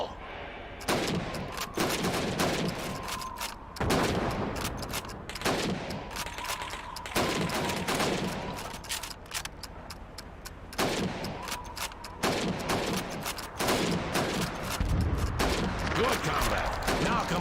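Rifle gunfire on a target range in a video game, shooting at helmets: a rapid series of sharp, loud shots in irregular bursts, with echoing tails and some game voice audible between them.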